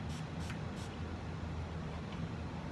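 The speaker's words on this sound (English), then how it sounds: "I have a very small spray bottle just full of water, and we're going to kind of try to mist it a little." A very small spray bottle of water mists watercolor paint, giving three quick hissing spritzes near the start and a fainter one later, heard over steady background noise.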